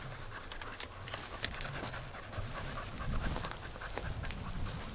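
A hunting dog pants hard and fast outdoors during a quail hunt, a steady rhythm of close, noisy breaths with rustling in the brush around it.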